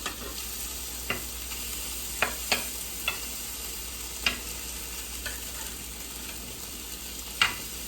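Meat sizzles steadily in a frying pan, a constant close hiss broken by occasional sharp pops and crackles, with no voices.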